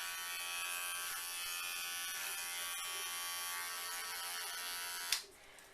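Electric hair clippers cut a man's hair in a steady, close, high-pitched buzz that hums evenly for several seconds, then cuts off abruptly near the end.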